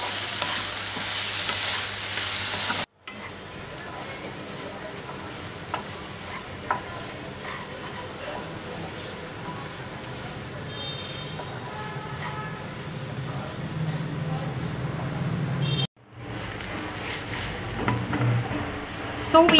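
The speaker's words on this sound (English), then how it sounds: "So next in, I'm adding in the dried chilies," Three dried chilies frying in hot oil while cooking dal fry, a continuous close sizzle and crackle that drops away briefly and returns, occasional soft stirring.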